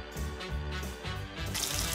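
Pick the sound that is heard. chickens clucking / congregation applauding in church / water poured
water poured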